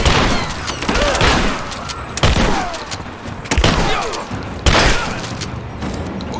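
Bursts of gunfire in a Rise of the Tomb Raider firefight, several sharp loud volleys a second or two apart, each trailing into a rattling tail, over continuous combat noise.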